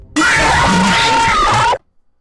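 Jump scare from Five Nights at Freddy's 2, a loud harsh screeching blast with a wavering tone that holds steady for about one and a half seconds, then cuts off abruptly into near silence.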